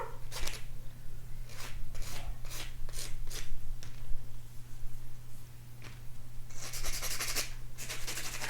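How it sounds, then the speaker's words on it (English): Acrylic nails get a quick buff, a run of short scratchy rubbing strokes over a low steady hum, close and moderately quiet, with a longer rougher burst near the end. "Now we're gonna give it a quick buff."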